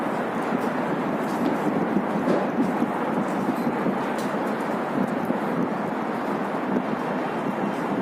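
Strong, steady wind at a construction site buffets the microphone with a continuous roaring rush, loud and unbroken throughout.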